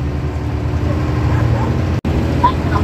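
Two small brindled dogs run behind a motorhome on a road, giving a few yips and barks over the steady road and engine noise.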